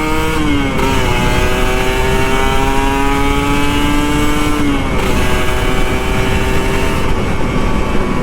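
Close, loud Kawasaki Ninja RR motorcycle engine droning steadily as it rides Jakarta roads in the early morning, with pitch rising through gears and dropping at shifts, plus constant wind rush.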